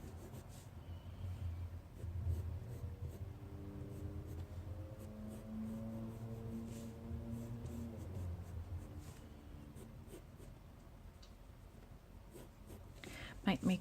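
Pencil sketching on paper, soft scratchy strokes and rubbing under a low voice that talks through much of it.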